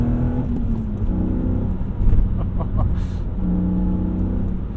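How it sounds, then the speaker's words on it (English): An E36 BMW M3 with an M50 intake manifold revs hard under acceleration in second gear, a deep throaty intake roar rising and swelling, loud and close. "That induction sound is so good."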